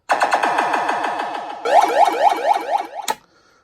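WMS Black Knight pinball machine sound test playing electronic effects: rapid repeated descending warbling tones, then a faster rising siren-like sweep series ending in a sharp burst, loud and close.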